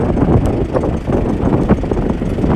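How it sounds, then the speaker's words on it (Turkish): A Deutz 6206 tractor, converted from two-wheel to four-wheel drive, idling close by with a steady, dense diesel rumble and faint rhythmic knocking, loud and constant with no talk. "Karşınızda 6206 Deus Traktör."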